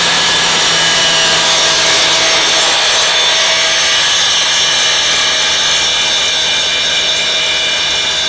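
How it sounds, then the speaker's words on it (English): A power tool grinds a metal nub off a 5th-generation Toyota 4Runner, a loud, steady, high-pitched whine that runs continuously and close by for the whole stretch with no talk over it. "I think I should be able to get away with just grinding this nub off."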